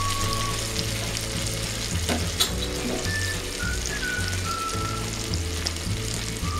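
Tomatoes fry with onions in a pan for Bengali doi chingri prawn curry, giving a loud, continuous close sizzle with rhythmic stirring scrapes and a brief clink, and no talking.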